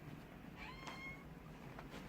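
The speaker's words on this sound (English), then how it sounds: "this is Brewy Lily, my cat that I have." A medium-haired cat meows faintly a couple of times, short rising calls set against a steady low background hum, with no talking.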